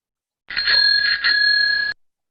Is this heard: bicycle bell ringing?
yes